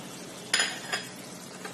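A spoon stirs chopped coriander into bottle gourd curry cooked with a catla fish head, making three soft scraping clinks against the pan over a faint background sizzle.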